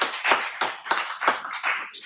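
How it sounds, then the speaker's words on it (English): A small group claps at a veterans' coding program graduation ceremony, about six distinct bursts of hand claps close to the microphone, uneven and sparse rather than a sustained ovation. "So give them all a round of applause."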